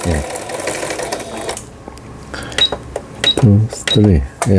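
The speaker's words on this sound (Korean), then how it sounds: "지그잭 바느질이죠. 지그잭 바느질." A repaired Singer 6180 sewing machine running a zigzag stitch, with short bursts of rapid mechanical whirring and clatter close by, broken by pauses, and a voice speaking in between.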